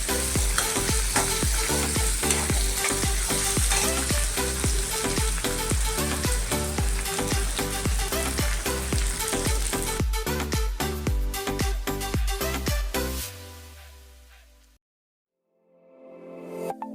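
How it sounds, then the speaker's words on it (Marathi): Green chilies fry alongside onions in a pan for a rustic sukka pithla, a steady loud sizzle broken by dense, rhythmic stirring scrapes, fading out near the end before a brief quiet stir resumes. "तर त्या मी आताच कांद्याबरोबरच तळून घेते थोड्याशा."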